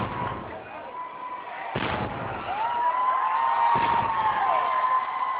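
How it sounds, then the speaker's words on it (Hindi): A 21-gun cannon salute in London marks the birth of a royal baby; two sharp booms land a couple of seconds apart over a steady, sustained tonal background. "21 तोपों की सलामी दी गई भविष्य के राजा"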